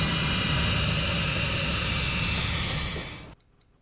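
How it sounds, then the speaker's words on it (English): A Pilatus PC-12 turboprop engine running in its quiet power mode gives a steady, loud broadband roar with a whining hum, heard alone without talk, and cuts off abruptly near the end. "since it is the quiet power mode, the engine in this mode really does work a little quieter"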